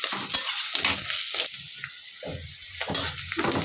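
Long beans frying in a pan as they brown, a steady crackling sizzle broken by repeated scraping stir strokes, close and fairly loud with no talking.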